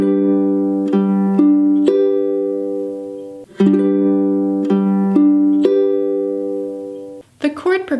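Ukulele fingerpicking pattern for a song, played at song tempo: steady plucked notes in an even 1-and-2-and rhythm over held chords, clear and close, with a brief pause midway and a voice starting at the end.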